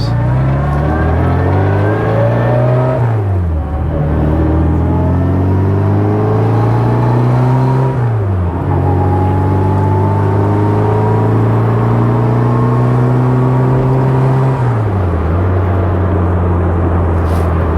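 A 1960 Austin-Healey Bugeye Sprite, restored, with its engine running steadily close by, rising and falling in pitch through a few revs and gear changes, loud and alone without talk.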